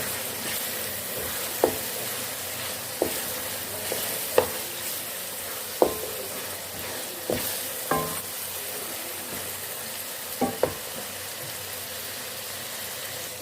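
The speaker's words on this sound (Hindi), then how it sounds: "और इसको भी हम फ्राई कर लेंगे गाजर को।" Carrots frying in a pan for a mixed vegetable pulao, a steady moderate sizzle punctuated by periodic sharp clinks and scrapes of stirring every second or two.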